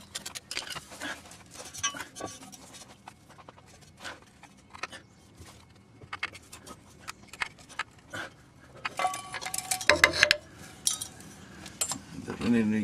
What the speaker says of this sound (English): I'm just going to use a spatula to get this off